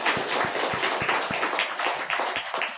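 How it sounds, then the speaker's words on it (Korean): Congregation at a pastor's installation service at Uijeongbu Simin Presbyterian Church clapping together, with sharp rhythmic claps standing out over a dense, steady wash of hands throughout. "우리 하나님께 영광의 박수 올리겠습니다."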